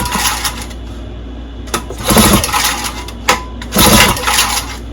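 A 1958 7.5 HP Johnson outboard motor being pull-started during restoration, with several sharp rope pulls, the engine turning over and clanking in bursts, close and loud, with no voices.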